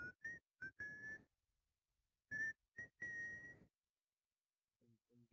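A person whistles a short good night tune in clear, bright phrases of held and rising notes separated by silences, with a brief faint beep near the end, in an Arma 3 game session.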